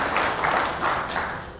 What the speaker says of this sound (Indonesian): Sekali lagi tepuk tangan bagi para pimpinan rakyat.